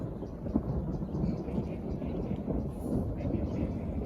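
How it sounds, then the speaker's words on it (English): Thunder rumbles low and continuously during a rainstorm outdoors, a deep rolling roar mixed with the patter of rain, with a voice heard faintly beneath. "you got a thunderstorm just literally there, and lightning as well"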